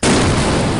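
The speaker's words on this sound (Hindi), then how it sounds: "धमाका होता है" A loud firecracker blast set off for Diwali, a single sustained booming burst that fills the moment at full strength with no talk over it.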